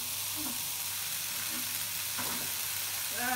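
Hot oil sizzling steadily in a pan while jute greens are cooked, a continuous close frying hiss with faint tonal clinks near the end.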